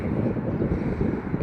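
Chilly wind blows outdoors, buffeting the microphone with a continuous low roaring rush that swells and dips slightly, with no voice over it.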